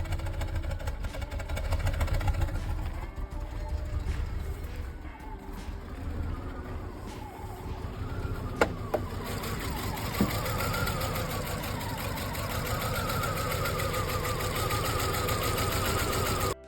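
A car engine running rough and damaged after a snapped timing belt, retimed with a new belt, chugs steadily at close range with uneven knocking and a clattery mechanical rhythm throughout.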